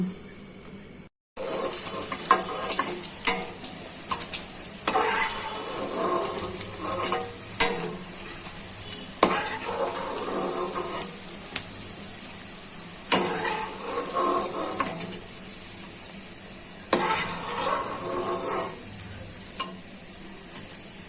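Shami or tikia kebabs fry in a pan, with a steady oily sizzle broken by repeated scraping and stirring knocks every few seconds, close and fairly loud with no talking.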